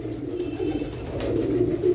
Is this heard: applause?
no